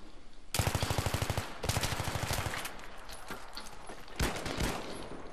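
Magnum .44 revolver fire in the video game Battlefield 3, heard as sharp gunshot bursts amid rapid multi-shot battle gunfire, loud and close with short pauses between volleys.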